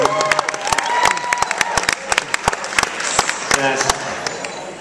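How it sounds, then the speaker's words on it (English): Guests clap at a wedding reception for the groomsmen and bridesmaids, a dense burst of loud, overlapping applause with a few cheers mixed in. "Give a round of applause"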